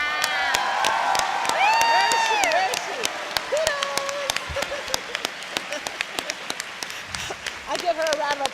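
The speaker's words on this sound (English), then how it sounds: "I give her a round of applause for that." Applause and cheering from a crowd at a voice actor panel, with whoops rising over steady clapping, while voices carry on underneath throughout.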